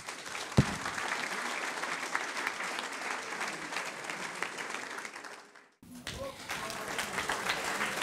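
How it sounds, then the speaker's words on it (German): Theatre audience applauding at a film evening in Frankfurt's DFF cinema, a dense steady roar of many hands that runs for several seconds, briefly dips almost to silence, then swells back up just as full. "Meine Damen und Herren, großen Applaus"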